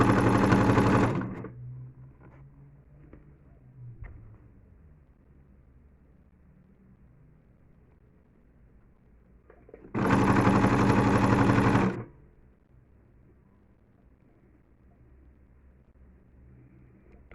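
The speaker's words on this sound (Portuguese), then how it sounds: "eu vou vir desde o início, com um pezinho de máquina. E vou costurar." Two loud, steady bursts from a sewing machine stitching fabric with English embroidery along a hand towel border, the first fading out early and the second running about two seconds, separated by quiet handling noises.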